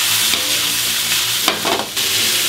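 Chicken, bell pepper and onion sizzle and fry in a pan while being stirred, a steady close hiss with brief scraping bursts from the utensil.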